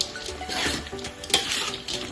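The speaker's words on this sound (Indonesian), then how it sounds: "Aduk dulu." Stir-fried tempeh and vegetables with soy sauce being stirred in a pan, with a soft continuous sizzle and scraping and one sharper clink of the utensil, close and fairly quiet.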